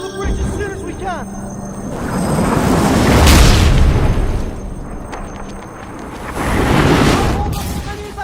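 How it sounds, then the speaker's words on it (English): Booming explosions blast apart a bridge in a Harry Potter Deathly Hallows game battle, with two loud rumbling blasts that swell and fade amid shouting voices and clatter. "We have to blow the bridge as soon as we can!"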